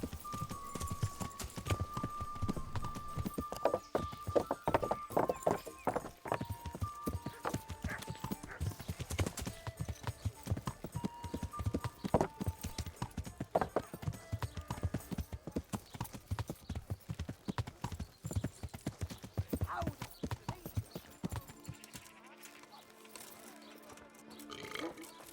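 Rapid, steady clip-clop of horse hooves with a snort or whinny in Kingdom Come: Deliverance, under layered game sounds and music, continuing throughout.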